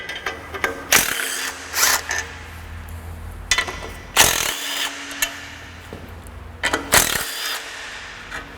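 A ratchet wrench turns a 12 mm bolt while removing the engine from a 1982 Mustang, several bursts of rapid clicking pawl strokes between quieter pauses, close and sharp.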